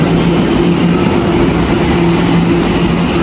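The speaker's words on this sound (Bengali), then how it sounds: "এই যে আমাদের ট্রেন চলে আসছে।" An underground subway train pulls into a station in Tokyo, a continuous loud rumble with steady low mechanical hum and a faint high whine throughout, no voices.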